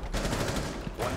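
Dense video game gunfight: rapid overlapping gunfire bursts, loud and close, in a continuous barrage throughout the short moment.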